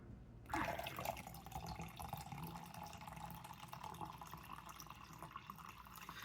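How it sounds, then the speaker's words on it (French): Water poured into a protein powder drink, a steady close trickle and splash starting abruptly after a short silence and continuing evenly throughout, fairly quiet. "Ouais, je vais remettre un peu d'eau."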